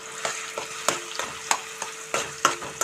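Ground onion paste with cloves sizzles in a hot pan while a utensil scrapes and stirs it in irregular strokes, close up and with no voices.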